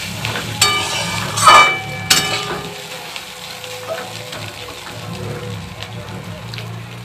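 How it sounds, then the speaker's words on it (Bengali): Chow mein sizzles and fries in a pan, a steady crackling hiss with a couple of louder stir bursts early on, close and moderately loud. "হালকা একটু ভাজা ভাজা হয়ে গেলেই নামিয়ে নেব।"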